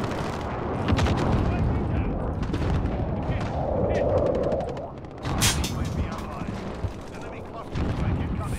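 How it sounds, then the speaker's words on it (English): A precision airstrike in a video game shooter: loud, dense bursts of gunfire and booming explosions that roll on for several seconds, with brief lulls, and voices shouting in between. "Friendly precision airstrike on the way."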